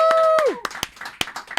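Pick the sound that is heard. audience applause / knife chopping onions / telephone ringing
audience applause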